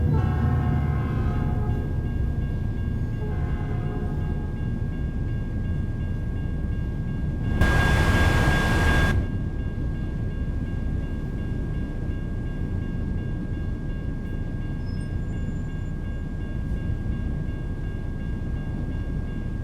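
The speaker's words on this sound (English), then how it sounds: "That's a train." A train passing in American Truck Simulator while driving in Nebraska near the Big Blue River: a steady low rumble of rolling cars with a brief loud horn blast partway through, sounding alone without talk.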